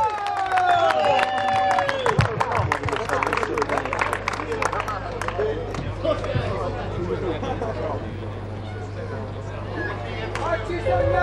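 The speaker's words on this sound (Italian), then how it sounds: "Al suo nome voglio sentire un grandioso applauso" Audience at a motor show cheering and applauding for performer Miss Rita Lynch, a dense, steady roar of clapping, whoops and crowd noise sustained throughout, with a hum underneath.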